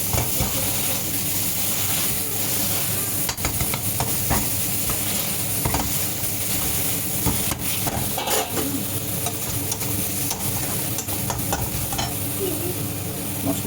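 Tomatoes and green chillies cook down in a hot pan with spices, a loud continuous sizzle close by, broken by repeated scraping stirs of a spoon, with no voices.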